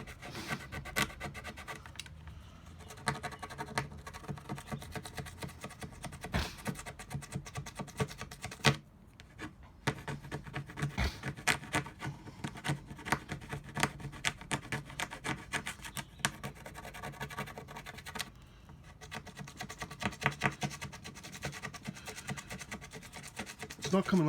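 Adhesive is rubbed off a motorcycle fairing by hand, a close, continuous scraping and rubbing with rhythmic strokes and brief pauses.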